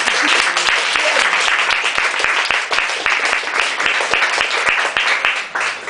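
An audience at an evening talk on music and power in Valladolid applauds, a loud, dense, sustained burst of clapping from a full room.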